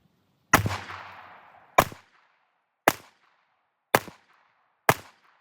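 Five sharp pistol shots from an RIA 5.0 firing Federal 115 grain ammunition at a range, spaced about a second apart, each loud crack trailing off quickly with a brief echo; no talking.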